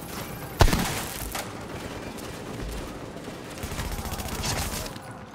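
Gunfire in The Division video game: a sharp shot opens, followed by a sustained rattle of automatic fire and scattered bursts over a busy, noisy mix.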